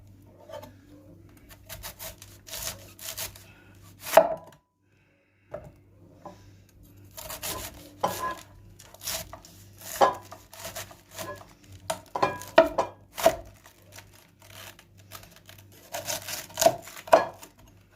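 Sharp knife chops cut through red cabbage on a board in irregular bursts, close and fairly quiet, with short pauses between strokes and a faint low hum underneath.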